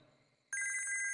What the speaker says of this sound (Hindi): पता नहीं किसका फोन है। फोन नहीं उठा रही है।